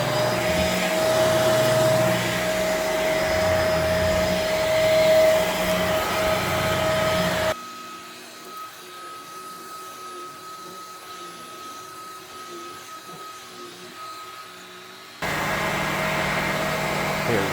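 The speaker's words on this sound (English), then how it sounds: "And vacuuming in 3, 2, 1." A vacuum cleaner runs loud and steady while cleaning Lars Ulrich's Damaged Justice tour drum kit, its tone dropping and growing quieter midway as the nozzle is muffled, then returning to full strength.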